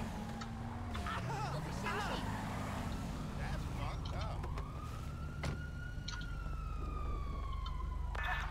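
Wailing police car sirens rise and fall in the GTA 5 video game as cops chase the player, layered over a steady engine rumble with voices in the background.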